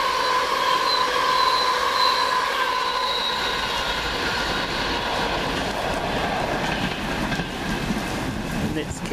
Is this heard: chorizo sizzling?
no